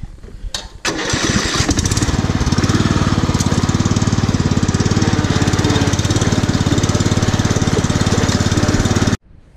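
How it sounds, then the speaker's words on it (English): A tractor mowing a pit bike track with swapped-in mower blades: a loud, steady engine drone with rhythmic mower chatter that starts after a brief rev and runs continuously near the listener, then cuts off at the end. "Got the tractor going, switch the blades out. We'll go mow that track."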